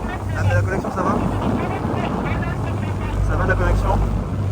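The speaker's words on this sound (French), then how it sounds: "Il y a beaucoup de vent." Strong wind buffets the microphone by the sea between two islands, making a constant low rumble that surges and falls while a person talks over it.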